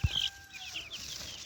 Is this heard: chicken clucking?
yes